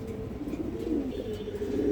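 Pigeons in a loft, including American fancy breeds, with a steady low cooing murmur continuing throughout at moderate, close range.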